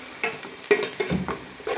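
Green chillies go into a hot pan for okra (bhindi) masala, with soft sizzling and a few scraping stirs at irregular moments, fairly quiet and close.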